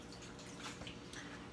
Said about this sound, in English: I'm gonna pour the remainder of this broth in here